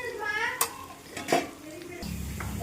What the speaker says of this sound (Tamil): இஞ்சி பூண்டு போட்டு நல்லா வதக்கிக்கலாம்